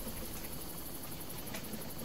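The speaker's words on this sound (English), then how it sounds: "there's definitely a helicopter" A helicopter in the video game Far Cry gives a steady, loud rotor and engine drone that runs on unbroken, with no talk over it.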